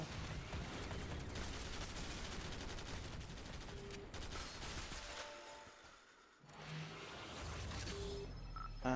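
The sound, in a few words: gunfire in the SYNTHETIK: Legion Rising video game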